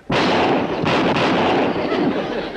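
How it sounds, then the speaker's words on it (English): A single loud gunshot booms from a drawn gun, an abrupt blast followed by a rumbling echo that holds and slowly fades. "You count to 3, and I'll draw and fire."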